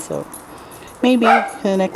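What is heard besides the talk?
dog barking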